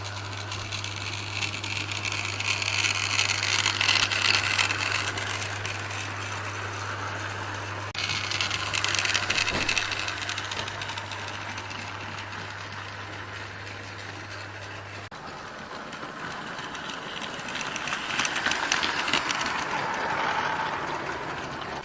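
Steam locomotive at a Great Western Railway festival hauling a light two-coach train, a steady mechanical rumble and chuffing at moderate distance that carries on evenly throughout, with no talk.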